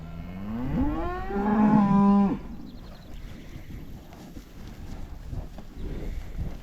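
Cattle on a farm with heifers and calves, one loud, close moo with a drawn-out rising and falling tone lasting about two seconds, then quieter outdoor wind and rustling.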